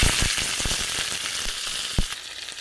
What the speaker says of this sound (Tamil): சீரகம் வந்து சேர்த்துக்கிறேங்க ரெண்டு வரமிளகாய் சேர்த்துக்கிறேங்க கருவேப்பிலை சேர்த்துக்கலாங்க